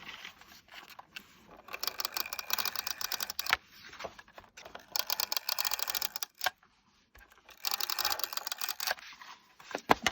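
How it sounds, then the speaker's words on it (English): A tape runner rolled along a handmade card, laying adhesive in several quick rasping, clicking strokes separated by brief pauses, close and fairly soft. "Now all we got to do is tape runner."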